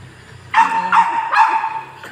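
A small dog yaps close by, two or three sharp, fairly loud barks in quick succession with a faint fourth at the end.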